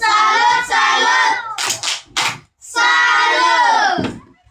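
Schoolchildren in a classroom chant loudly in unison while performing a rhythmic clapping routine, with a few sharp hand claps falling in a short gap between the chanted phrases.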